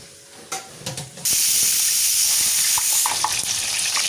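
Eggplant pieces coated in turmeric and salt drop into hot oil, starting with a few light clatters before a loud, steady frying hiss takes over and holds to the end.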